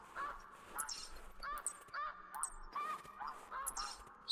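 Ducks in the hunting video game theHunter Classic call repeatedly in short honking bursts across a quiet snowy landscape. The calls are moderately faint and irregular, with no one talking.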